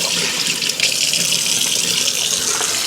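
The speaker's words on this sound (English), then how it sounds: "so you will get some sputter out of it" Water sputters and gushes steadily from an RV faucet as air clears from the line after the tank was filled, a loud, close, continuous hissing stream with brief irregular surges and no talk.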